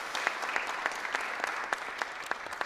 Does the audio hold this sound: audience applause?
yes